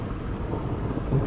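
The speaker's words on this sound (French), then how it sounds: "Oh putain, il y a de l'orage qui arrive." Low thunder rumbles from an approaching storm over open country in Montana, a deep, continuous roll with some wind noise against the microphone and no voices.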